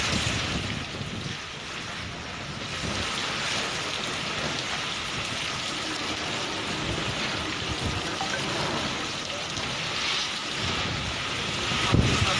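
Strong wind from Cyclone Nisarga lashing the coast at Alibag, a steady loud roar of gusts mixed with rain and surf that stays dense and unbroken throughout, with a sharp burst near the end.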